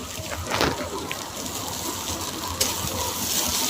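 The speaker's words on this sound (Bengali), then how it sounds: "এবার এর মধ্যে টমেটো দিয়ে দেবো।" Tomatoes hitting hot oil in a pan for chicken and pea ghugni, giving a steady close sizzle with a brief stirring scrape near the middle and the frying hiss building toward the end.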